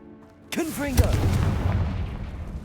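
A Confringo blast spell in Hogwarts Legacy fires at a poachers' blockade, opening with a sharp whooshing cast followed by a heavy booming explosion that rumbles and fades. A voice is heard around the blast.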